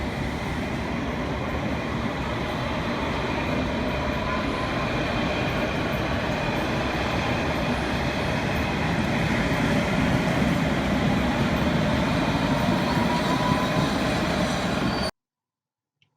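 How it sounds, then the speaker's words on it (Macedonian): A metro train runs steadily on its rails with a continuous dense rumble and faint squeal, loud and constant for about fifteen seconds before cutting off abruptly. "метро"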